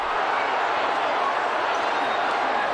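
Football match crowd clapping and murmuring steadily, a dense continuous wash of applause from a large stadium audience at a distance, with no distinct voices.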